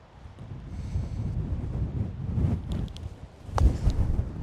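Strong gale-force wind buffets the microphone on an exposed mountain golf course, a steady low rumble that swells and gusts louder near the end, with no talking.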